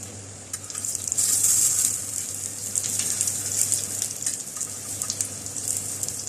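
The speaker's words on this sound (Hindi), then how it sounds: "हल्की आंच पे इन कबाब को फ्राई कर लेते हैं।" Beef shami kebabs fry in oil over low heat, giving a steady close sizzle with a bright hiss that swells and eases throughout, alone with no voices.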